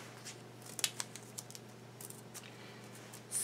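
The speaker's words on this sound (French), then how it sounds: "un morceau de papier blanc et des ciseaux" Scissors cut white paper: soft, quick snipping and crinkling sounds, faint and close, come in short irregular bursts over a low steady hum.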